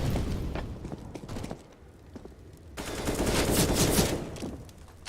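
Rapid bursts of gunfire from players shooting through walls in a Counter-Strike: Global Offensive tournament match crackle in quick rattling volleys, with a denser, louder barrage in the second half.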